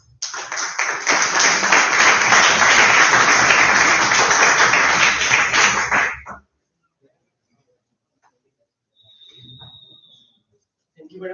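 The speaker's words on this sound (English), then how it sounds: "Let's warmly welcome Mr. Kumar to the stage with a round of applause." Loud audience applause greets a speaker taking the stage at a renewable energy and sustainable development session, steady clapping for about six seconds before stopping abruptly, followed by quiet and a brief murmur.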